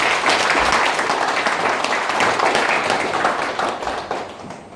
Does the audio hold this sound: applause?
yes